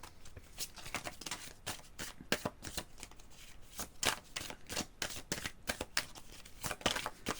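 A deck of Petit Prince tarot cards is shuffled by hand in quick repeated riffles, each a crisp papery burst in an uneven rhythm, close and fairly quiet with no voices.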